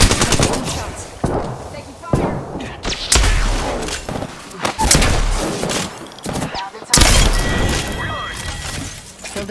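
Gunfire in the Apex Legends video game, with loud close bursts of automatic fire, sharp single shots and crashing impacts arriving in waves, and voices speaking intermittently through the action.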